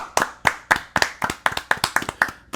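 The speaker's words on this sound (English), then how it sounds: "Give him a round of applause, please." Clapping from a small audience welcoming a guest, about ten distinct sharp claps in an even rhythm, close and clear with no talking.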